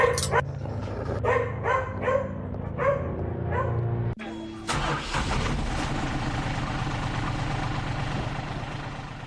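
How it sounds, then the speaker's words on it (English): A Doberman barks repeatedly in the Nightmare Shift video game, several sharp close barks at an even pace, then an engine-like rumble takes over and continues steadily. "Why is there just a Doberman out here?"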